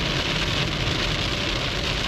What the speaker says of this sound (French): La plus grosse pluie qu'on ait eue.